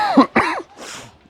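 A person coughs and clears their throat, with two sharp, close hacking bursts followed by a softer breathy exhale.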